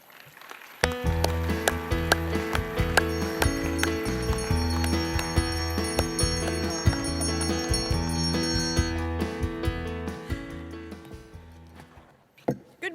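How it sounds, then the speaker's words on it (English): Several bells peal together in a rich, overlapping cascade at a convention session, ringing steadily for a long stretch before the last strikes fade away. "When was the last time you heard bells ringing?"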